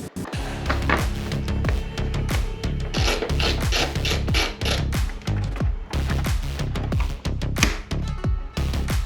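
Plastic cowling covers are pried and pulled off a Honda Transalp motorcycle: close, rough scraping and creaking with sharp snapping clicks in repeated bursts, no one speaking.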